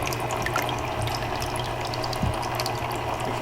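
Aquarium filter water flow in a cichlid tank: a steady, close rushing and bubbling hiss with faint mechanical rattling, even in level and without voices.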